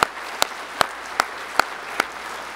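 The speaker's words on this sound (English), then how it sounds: "I think we ought to give the Lord a hand clap for that." Sharp hand claps ring out in an even, regular beat, six in a row, as a church congregation claps together in unison with little else underneath.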